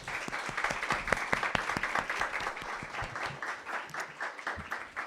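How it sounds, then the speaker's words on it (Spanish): Audience applause at a talk on a libertarian school project, a steady burst of many hands clapping close by for about five seconds, dense and even with no voices over it. "un fuerte aplauso para los dos acompañantes"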